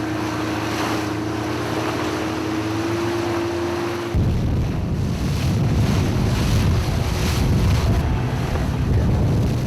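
A rubber boat released from a mother ship races at top speed through high waves on a stormy sea, its engine drone giving way to loud, continuous wind buffeting and rushing water.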